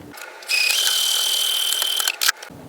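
A home sewing machine stitches a fabric piece down onto a monogrammed Christmas stocking, a steady high mechanical whir running for about a second and a half before a few brief clicks and a stop.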